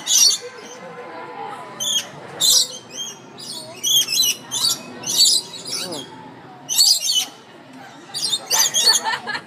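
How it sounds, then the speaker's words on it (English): Small birds in the Busch Gardens Williamsburg aviary chirp in repeated sharp, high bursts near the microphone, some quick and squeaky, over a soft background hum without voices. "so, I mean, maybe this is a female bird."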